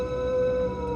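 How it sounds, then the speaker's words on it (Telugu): A jackal's long, sustained howl holds one wavering pitch throughout, eerie and fairly loud, with no other sounds. "బయట నక్క అరుపులు"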